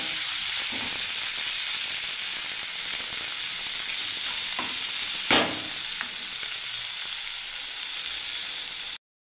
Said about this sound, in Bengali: এবার আমি আবার নাড়তে থাকবো